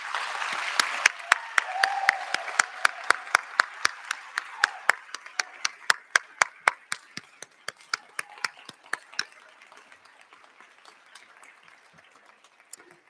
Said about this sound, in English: May we have a final round of applause for all of these talented students